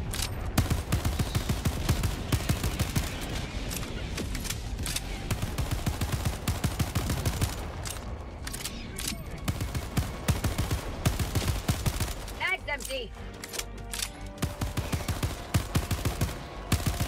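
Sustained gunfire rattles on in Helldivers 2 as a player fires on a mushroom-shaped enemy structure, with rapid shots and explosive impacts layered densely throughout at moderate volume.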